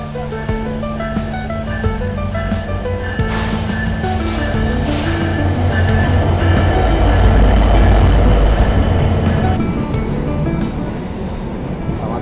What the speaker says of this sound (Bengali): এসে গেছে মধুমতি এক্সপ্রেস